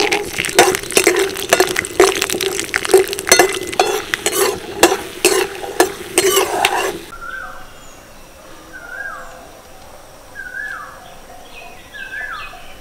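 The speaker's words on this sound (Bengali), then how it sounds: "বাদামগুলোকে বেশ সুন্দর করে ভেজে নিয়েছি," Peanuts fry in white oil in a wok with a loud, crackling sizzle and rhythmic stirring scrapes for about seven seconds, then the cooking stops and faint bird calls are heard outdoors.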